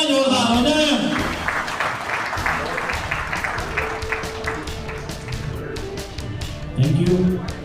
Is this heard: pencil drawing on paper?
no